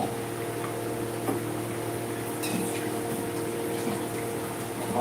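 Half a cup of water is poured into a cooking pot holding sweet potatoes, a soft, steady trickle and gush heard faintly and continuously over a low kitchen hum, with no talking.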